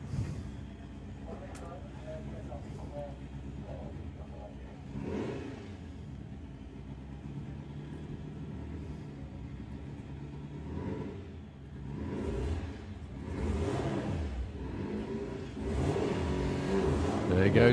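Drag racing cars accelerate at Santa Pod, in a festival of power race for Volkswagen-based cars, with a low engine rumble rising into several roaring surges that grow louder near the end. Crowd noise and a commentator's voice can be heard through it.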